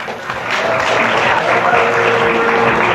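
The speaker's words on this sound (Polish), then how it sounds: "Brawa." Audience at a St Nicholas song contest in the Żuromin cultural centre bursts into applause for a winner, swelling after a brief start and holding as steady, loud clapping.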